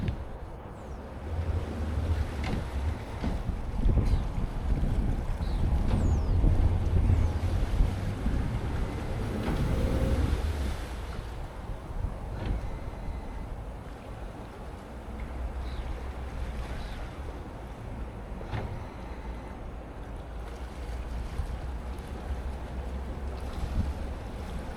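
A Jeanneau TH38 catamaran's engine drones low and steady at slow speed under joystick control, with wind buffeting and water sloshing around it, louder at first and then easing off.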